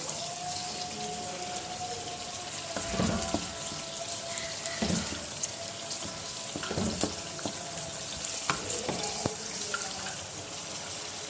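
Chopped tomatoes simmering in oil in a covered pan over low heat for a Pakistani qeema kabab, giving a continuous soft sizzle and bubbling with occasional louder pops and clatters.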